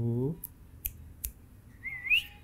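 An Alexandrine parakeet gives a short descending whistle at the start, then a few clicks and a rising whistled call near the end, close and fairly clear indoors.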